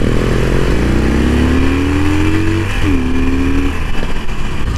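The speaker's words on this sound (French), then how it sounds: "tu vas changer tes échappements parce que ta moto elle fait pas de bruit" A Harley-Davidson motorcycle with its stock exhaust revs close up: the engine climbs in pitch, drops back briefly, then rises again before settling into a loud, rumbling idle.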